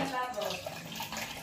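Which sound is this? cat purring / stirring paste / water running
water running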